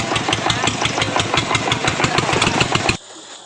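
An old diesel farm tractor engine runs overloaded during a river crossing, a loud close rhythmic knocking chug that cuts off abruptly near the end.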